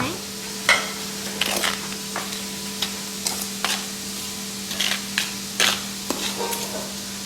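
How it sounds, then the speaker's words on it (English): A spoon stirs food, making about a dozen irregular clinks and scrapes against the dish over a steady background hum, with no one speaking. "You need a spoon. Alright, need a spoon. Alright. Alright, then you just stir them up."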